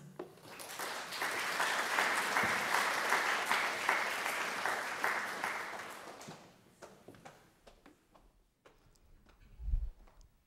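An audience at an art lecture applauds a lecturer being welcomed, a dense roar of clapping that swells for several seconds, then thins into scattered claps and room noise.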